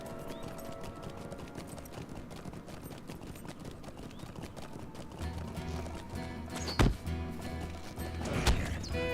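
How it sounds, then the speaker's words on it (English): A horse gallops in The Lord of the Rings Online, with steady hoof clip-clop rhythm carried under game music and ambience, then heavier impacts near the end. "before they knock us off the horse"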